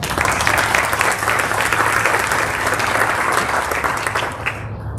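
Crowd at a middle school end-of-year ceremony giving the lacrosse team a round of applause, loud continuous clapping filling the room before fading in the final second.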